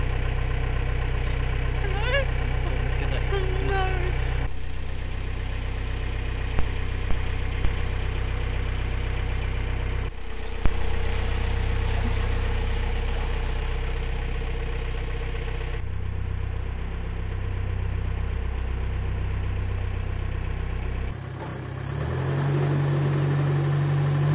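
A narrowboat engine chugs steadily while cruising the Trent and Mersey Canal, a low continuous drone close by with brief knocks and a few small clanks, dipping briefly near the end.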